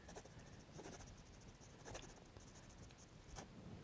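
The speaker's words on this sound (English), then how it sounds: "if I go in with the pencil and I just sign it just like I'm signing a checkbook" A pencil scratches out a quick signature on paper, dense continuous scribbling strokes with brief pauses, close and steady with no talk.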